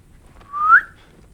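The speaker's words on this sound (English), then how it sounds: "I'm trying to learn how to whistle." A person whistling a single short, clear note that bends upward in pitch, rising from quiet and fading quickly, heard alone against near silence.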